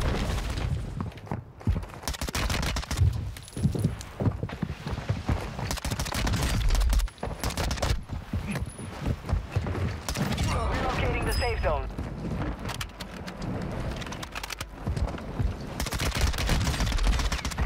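Rapid bursts of Lachmann Shroud SMG gunfire in a first-person shooter, with dense crackling volleys coming in repeated clusters over game sounds and a voice talking throughout.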